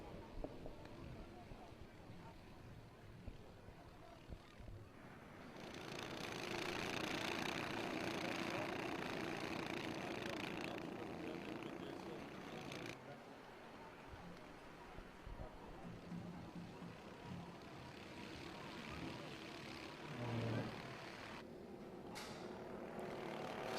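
Honda Cadet karts on the formation lap at Glan-Y-Gors circuit drone and buzz at a moderate distance, their engine noise swelling for several seconds and then fading, with a commentator talking over it.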